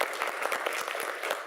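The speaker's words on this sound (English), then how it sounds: "And clap." An office audience claps together at a staff Shout Out gathering, a steady dense patter of many hands with no break across the short stretch.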